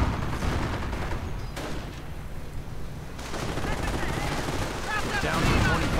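Machine gun bursts and artillery blasts from a World War II real-time strategy game match, a dense continuous battle din of rattling gunfire and booms, fairly loud throughout with no one talking.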